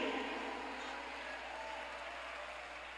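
An audience at a youth camp sermon in Bohol breaks into dense, steady applause that fades slightly over a few seconds, heard in a large room.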